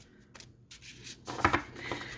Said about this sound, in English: Oh, it shuffles so nicely because, again, the cardstock's very nice.